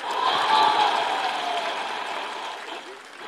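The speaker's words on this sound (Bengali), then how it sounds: "আমাদের ক্ষোভের জন্য একটা জোরে হাততালি" A large crowd applauds steadily at a youth gathering addressed by chief adviser Dr. Muhammad Yunus. Dense, continuous clapping swells early and then gradually thins and fades toward the end, with no clear speech over it.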